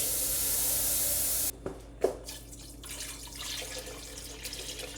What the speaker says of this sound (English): we're gonna add a little more water.